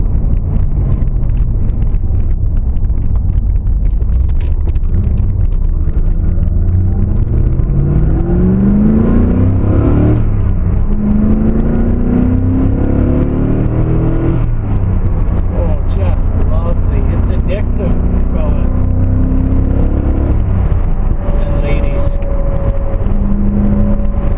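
A Corvette engine revs loudly while driving, its pitch climbing and dropping through the gears, with wind rushing past.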